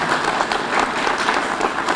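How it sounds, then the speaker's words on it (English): Sustained applause from a large crowd at a police promotions and awards ceremony in New Bedford, dense and steady for the whole stretch. "Give yourself a round of applause"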